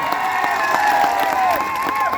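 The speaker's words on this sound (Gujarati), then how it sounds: "જોરદાર તાળીઓ પણ લઈએ" A crowd at a political rally claps and cheers for a senior legislator on stage, with dense, loud applause and sustained shouts and whistles running throughout.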